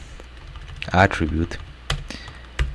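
Keystrokes on a computer keyboard patter in quick irregular clusters while someone talks over them, close and moderately loud.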